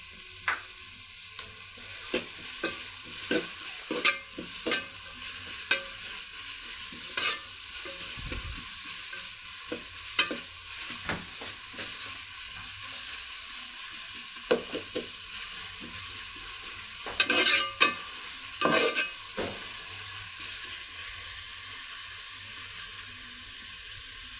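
Sliced onions sauté with a pinch of salt in a pan for chicken curry, giving a steady, even sizzle throughout. Scattered scrapes and clicks from stirring break through now and then, close up, with no talking.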